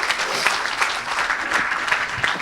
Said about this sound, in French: Est-ce que tu peux acclamer pour cette grâce?